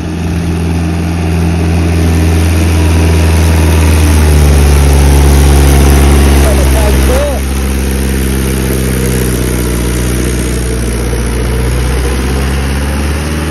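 A Mahindra 575 DI XP Plus tractor engine, hooked to a dumper trailer, idles loud and close with a deep, steady thrumming rumble that swells slightly mid-way, then settles back to an even idle.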